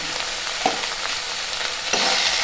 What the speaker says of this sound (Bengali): এটাকে ভালো করে নাড়াচাড়া করে নেব।